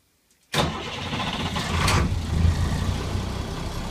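After a moment of near silence, a 1998 AmTran International bus engine cranks and catches on a cold start, then settles into a loud, rough, rattling idle close by.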